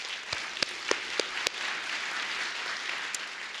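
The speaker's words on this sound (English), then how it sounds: "Give yourselves a huge round of applause." Audience applause at a community arts and culture event, a broad, steady patter of many hands with a few sharper nearby claps standing out early on, moderately loud and sustained.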